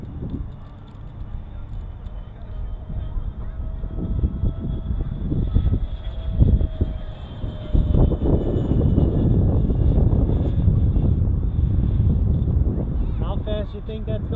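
An E-Flite F-16 70mm electric ducted fan RC jet screams past at top speed in strong wind, a steady high-pitched whine that swells as it passes, with wind buffeting and people talking over it.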